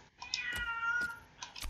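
A pet cat gives a couple of short meows in a row, close and fairly clear, with a few light clicks around them.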